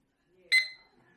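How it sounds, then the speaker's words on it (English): An XREXS digital countdown timer sounding a single short electronic start beep, bright and close, ringing out alone and decaying quickly into near silence. "Now when you hit start, you heard a nice single beep."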